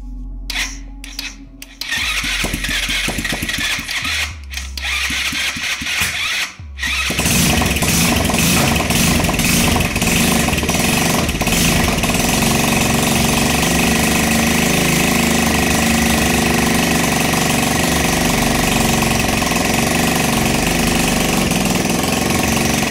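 A small Racer Meteor 50 motorcycle engine sputters through a few attempts, then catches and runs steadily at a loud, rattling, uneven idle, close by.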